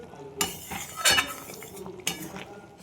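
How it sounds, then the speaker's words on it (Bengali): Mung dal cooked with fish head being stirred in a pot, a few distinct scrapes and clinks of a utensil against the metal over a soft background, with no speech. "এই জন্য একটু নাড়িয়ে দিতে হবে।"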